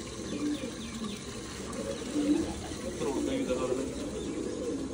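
Pigeons kept for breeding coo steadily in a low, throaty murmur through the whole stretch, fairly close, with a soft background bustle and some speech-like sound mixed in.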